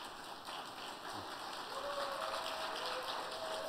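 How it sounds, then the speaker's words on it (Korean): A church congregation applauds a newly married couple, a dense, steady patter of many hands clapping together at moderate distance. "여러분들 박수로 앞길을 축복해 주시기 바랍니다."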